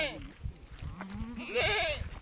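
Kathiawadi goat, a heavily pregnant dairy animal at a sale, bleating with wavering cries that rise midway, close and fairly loud, with a person talking over the animal sounds.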